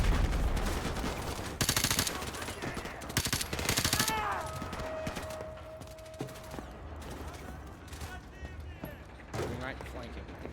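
Gunfire and explosions from the Call of Duty Modern Warfare game ring out in loud bursts and sharp rattling volleys, then thin to scattered distant shots, while a voice talks over parts of it.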